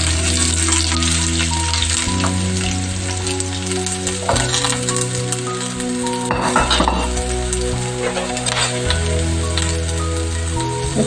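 Sliced onions fry loudly in ghee or oil for chicken biryani, a dense, continuous close sizzle with occasional stirring scrapes and clinks of a spatula.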